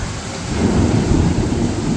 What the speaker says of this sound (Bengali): বৃষ্টি হচ্ছে কি দারুণ